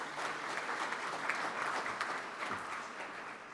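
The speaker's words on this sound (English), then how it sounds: "Let's give all our visitors a round of applause." An audience gives a round of applause for visiting guests: dense, steady clapping from a roomful of people, lasting a few seconds at an even level.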